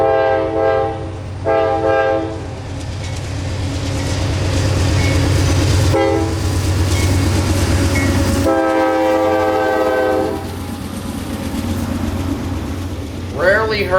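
CSX freight locomotive horn sounding a shave-and-a-haircut pattern on the Palmetto Subdivision, loud and close, with several horn blasts over the rumble and rail clatter of the passing train.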